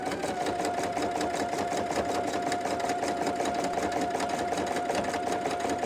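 PFAFF Creative Expect 350 sewing machine stitching an appliqué, a steady close mechanical whir with a fast, even stitching rhythm running the whole time, with no talking.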